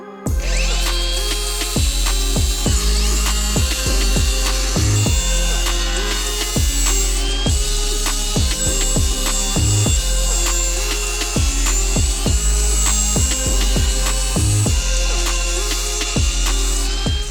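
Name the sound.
grinder with 80 grit flapper disc on truck firewall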